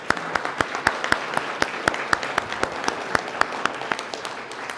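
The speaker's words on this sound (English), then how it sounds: "so we'll give them a round of applause if we could" Audience applause for mayoral candidates at a local election candidates' event, a sparse scattering of distinct hand claps with a steady broadband wash of clapping underneath, moderately loud and continuous throughout.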